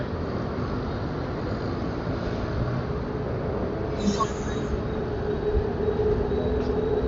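A train passing on an elevated line in a Thai city, a steady broad rumble and rush that stays loud throughout with faint squeals on top, while people speak nearby.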